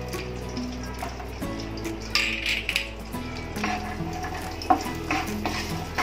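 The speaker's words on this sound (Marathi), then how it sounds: "तूप घालू, ड्रायफ्रुट्स परतून घेऊया त्याच्यात" Dry fruits sautéed in ghee in a pan, a close, steady sizzle broken by scraping stirs and a sharp clink of a utensil against the metal pan, with no talking.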